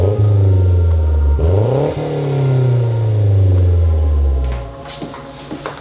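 Mazdaspeed 3 fitted with an Ultimate Racing catback exhaust revs up sharply, then climbs through a longer rising and falling pull before dropping to a burbling idle with a few pops, loud and close.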